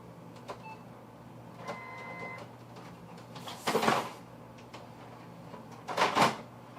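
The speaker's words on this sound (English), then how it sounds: "I just turned on the printer and double checked that it had premium matte paper inside of it" A desktop printer powers up with quiet clicks, a brief motor tone and two louder mechanical whirring bursts as its rollers cycle, close by in a quiet room.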